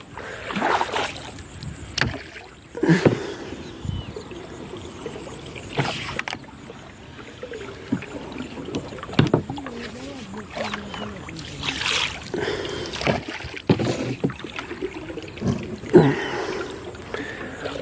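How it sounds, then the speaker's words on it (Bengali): A wooden boat is rowed on a river against the current, with irregular splashes, knocks and creaks from the oars and hull over faint background noise, and no talking. "নৌকা চালানোটা আসলে ইজি না, 2 হাত লাগাইতে হইতেছে।"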